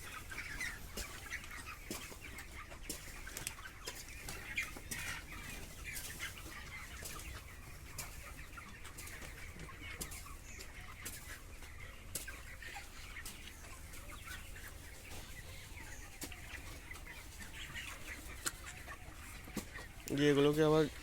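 A large poultry farm full of chickens, a continuous chorus of clucking with scattered sharp squawks and occasional wing flaps, people talking faintly underneath, and a louder burst of clucking near the end.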